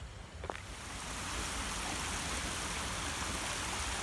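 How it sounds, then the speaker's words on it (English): A small burn flows through Gleniffer Braes Country Park in Scotland, feeding a waterfall below; its steady rushing hiss swells in after a quiet start and then holds constant and close. "So this is the wee burn."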